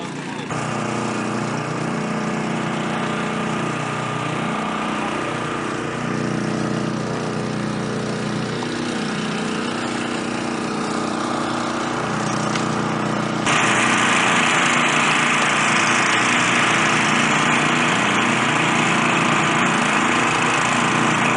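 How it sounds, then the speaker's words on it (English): Engine-driven pumps run beside a bank, filling an 8 ft AquaDam to isolate a boat channel in Yuba County, California. They give a steady, close, high-pitched motor drone that grows louder and brighter partway through. "We got the pumps going, so we got about an hour's worth of pumping."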